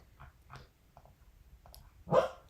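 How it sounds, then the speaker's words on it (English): A dog gives soft, muffled woofs while asleep, a few short quiet chuffs followed by one slightly louder bark near the end, close by in a quiet room. "His talking in his sleep, kind of like barking in his sleep."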